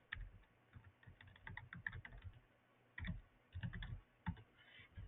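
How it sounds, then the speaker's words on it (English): Quiet computer keyboard typing of an email address, with bursts of key clicks separated by short pauses, faint and close with no speech. "So from here, I can absolutely type in my customer's email address."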